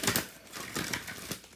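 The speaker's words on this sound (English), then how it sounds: "And then let's get one card from this deck, please." Tarot card pulled from a paper deck during a card reading, giving soft crinkling, rustling handling noises in a few brief bursts, close and fairly quiet.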